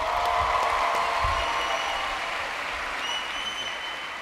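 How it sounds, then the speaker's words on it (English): Steady, dense applause from a large audience at a convention event fills the space for several seconds, loud and continuous with no one speaking. "can we give them one more round of applause for doing a great job?"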